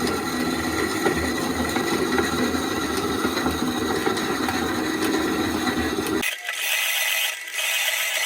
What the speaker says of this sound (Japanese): スタビライズドウッドをカットしていきます